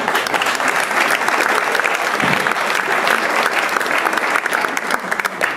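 A studio audience applauds steadily and loudly throughout, a dense wash of clapping on a Dutch television show with no voices above it.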